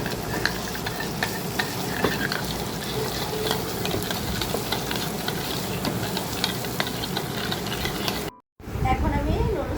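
Noodle stir-fry sizzles steadily in a pan as soy sauce and tomato sauce go in, with scraping stirs and a constant frying hiss close by, briefly cut off near the end before resuming.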